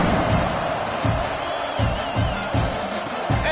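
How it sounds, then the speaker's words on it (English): A packed college football stadium crowd at UTSA vs Oklahoma keeps up a steady roaring buzz after a score, with dull thumps and swells rising through the continuous wash of noise. "this crowd is buzzing after that last score."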